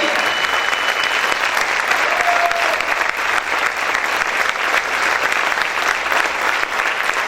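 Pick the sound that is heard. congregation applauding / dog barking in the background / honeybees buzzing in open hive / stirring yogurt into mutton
congregation applauding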